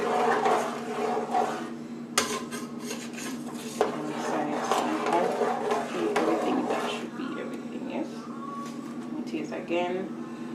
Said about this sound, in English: Give it a nice good stir.